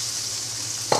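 Carrots hit smoking-hot oil in a pot, letting out a loud, even hiss that carries on steadily, with a brief clatter right at the end as they are tossed.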